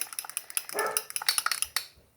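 A dog barks in a quick, steady run of sharp yaps with a brief growl mixed in, close and fairly loud, in a kitchen where gluten-free banana muffin batter with buttermilk is being mixed.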